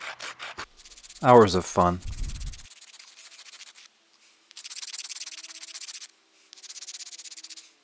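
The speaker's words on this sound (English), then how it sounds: "With a flint knife, you just have to scrape along the surface, like with a cabinet scraper." Flint knife scraping along a wooden spoon blank, a dry rasping scrape in two bursts near the end after a short voice remark and rustling at the start.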